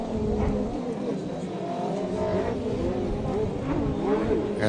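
A racing watercraft engine at a Pro Watercross race in Sebring, Florida, droning steadily as it passes at a distance, with a commentator talking over it throughout.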